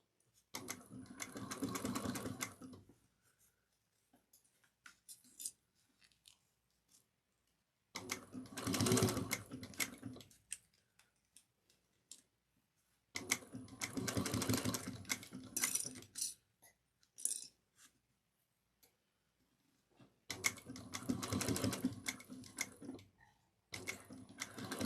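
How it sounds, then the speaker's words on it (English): A sewing machine stitches and back-stitches a cross-body bag in four separate runs, each a few seconds long and close by, with quiet pauses between them. "Get to that mark and back stitch to lock it in"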